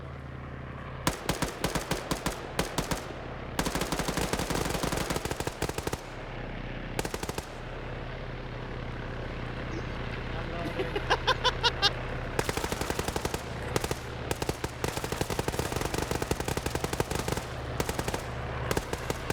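Sustained bursts of automatic machine gun fire in a video game, loud and close, with rapid rattling volleys separated by brief pauses.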